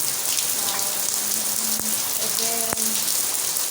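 Heavy rain pelts down in a dense, even hiss close by, with faint distant voices or tones underneath and a couple of sharp clicks.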